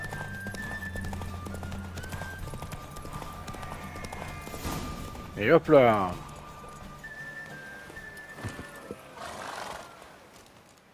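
Horse in The Witcher 3 game, clip-clopping hooves with a sharp neigh or whinny midway, set among game background sounds and someone speaking French before and after.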